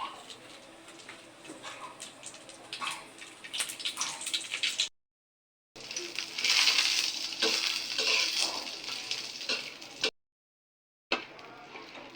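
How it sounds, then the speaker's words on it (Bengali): Green chillies fry in a pan with oil, giving a steady crackling sizzle and bursts of stirring and spattering that come and go, broken by two short silent gaps. "এখন এই যে কাঁচামরিচগুলো ভেজে নেবে"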